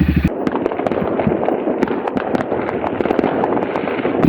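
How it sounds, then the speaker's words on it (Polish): Dense, continuous crackling and popping of firecrackers and fireworks at midnight on New Year's Eve, loud and relentless, with sharper bangs scattered through the barrage. "12 w nocy, ludzie strzelają petardami"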